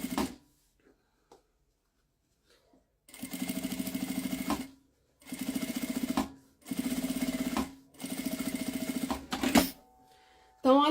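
A sewing machine runs close by in four steady bursts of even, rapid stitching through fabric and lining, separated by short pauses, after a few quiet clicks at the start.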